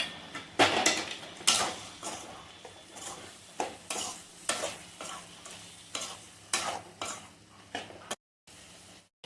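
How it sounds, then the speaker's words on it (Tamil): Chicken for chicken sukka is sautéed and stirred in a pan, with a steady run of scraping spoon strokes roughly every half second over a low background sizzle, close and fairly loud, with no talking. "ஒரு 5 நிமிஷம் நல்லா பச்சை வாசனை போகிற அளவுக்கு நல்லா வதக்கிக்கணும்"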